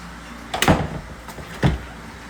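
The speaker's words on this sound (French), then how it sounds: "C'est le vent qui ferme la porte." A door is slammed shut by the wind: two sharp, loud bangs about a second apart, the first heavier with a short rattle, the second a crisp single thud.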